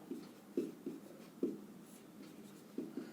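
Pen or chalk scratching out a maths solution for a class 10 geometry example, in short repeated strokes with small pauses between them, close and fairly quiet.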